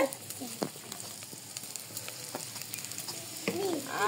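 Onions frying in a clay pot for pulao, a steady crackling sizzle with occasional stirring scrapes and spatters, close and moderately loud, no voices over it.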